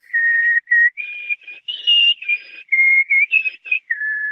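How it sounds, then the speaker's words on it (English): A creepy whistled tune from the Death character in a movie, a clear solo melody of sustained and short notes that rise and fall in pitch, heard alone with no voices. "that whistle's so creepy"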